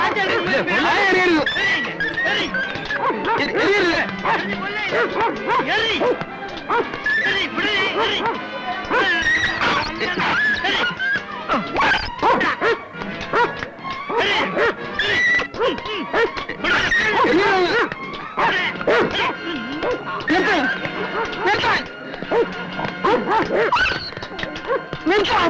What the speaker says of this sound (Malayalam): പേനായെ കൊല്ലണ്ടോ? അതിനിങ്ങനെ തല്ലി ചേർന്നാ കൊല്ല.